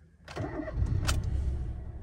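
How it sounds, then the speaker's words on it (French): A Citroën C1 car engine cranks briefly and catches, then settles into a close, steady idle with a vibrating rumble. "j'ai l'impression de démarrer une voiture d'il y a 15-20 ans"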